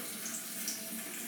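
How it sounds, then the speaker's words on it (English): Tap water runs steadily over a synthetic shaving brush in a sink, a faint close hiss with no talking. "run it under water one more time, and one more time"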